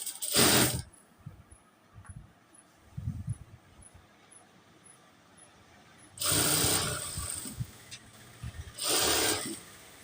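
Sewing machine stitching a pant pocket, with two loud whirring runs of rapid stitching separated by quieter clicks and handling of the fabric, close by and without speech.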